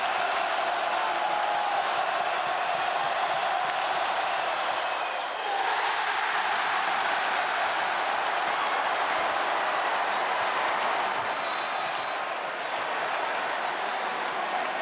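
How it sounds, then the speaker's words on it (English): A sellout arena crowd at a men's college basketball game, North Carolina Central against NC State, roars steadily and loudly during a free throw, with a brief dip partway through and faint commentary underneath. "And now the sellout crowd hungry for a free throw miss."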